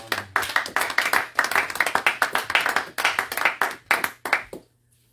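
A church congregation claps along during a French-language sermon, a steady rhythmic pattern of many hands striking together that carries on briskly and then stops abruptly near the end.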